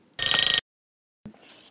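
An alarm clock rings in one short, loud electronic burst of about half a second, then silence, followed by a brief thud and faint rustling.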